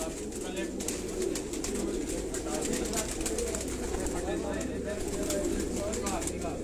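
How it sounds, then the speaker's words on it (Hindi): A Black Cobra breed pigeon coos softly amid a busy loft of other pigeons, low murmuring calls rising and falling under steady background chatter and flutter. "बहुत ज़बरदस्त जी ब्लैक कोबरा कबूतर है जी"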